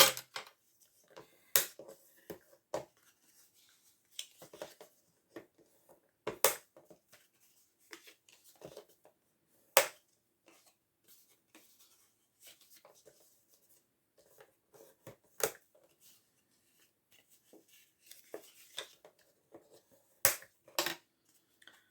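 Paper creased into folds for a perpetual calendar: sparse, close crackles and sharp rustling presses separated by quiet gaps, with a few louder snaps.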